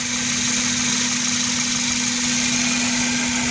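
A 2001 Toyota Corolla engine with aftermarket headers idling, a steady close mechanical hum with a constant low drone and no voices.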